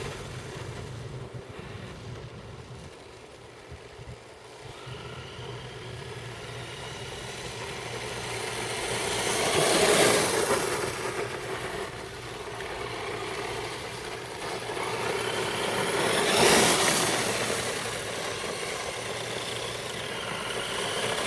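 A Grand Hauler toy truck on its stock motor in third gear, a steady whirring electric motor drone that swells louder twice as it passes close, with no voices.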